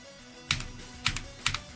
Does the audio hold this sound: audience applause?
no